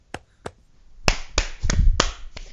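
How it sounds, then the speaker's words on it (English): Close, dry hand claps land one at a time, about seven sharp smacks at uneven intervals with quiet gaps between them. "See, you can hear my clapping."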